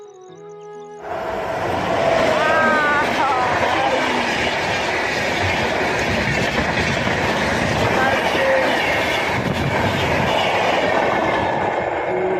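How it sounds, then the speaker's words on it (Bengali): A train rolls past close by near a railway station at Dhupguri, a loud, steady rumble with rhythmic wheel clatter and brief squeals that lasts from the first second to the end. "ট্রেন আসতেছে, দাঁড়াও"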